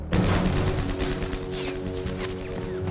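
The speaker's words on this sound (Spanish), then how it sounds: "bajo una intensa lluvia de disparos" Dense, continuous gunfire crackles with rapid overlapping shots and booms, loud and chaotic throughout.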